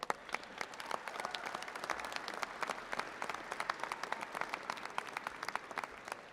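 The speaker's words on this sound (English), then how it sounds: "Thank you for that big round of applause." Audience round of applause at a food policy tour event after a senator is thanked, many hands clapping with distinct sharp claps standing out from a steady, moderately loud crowd.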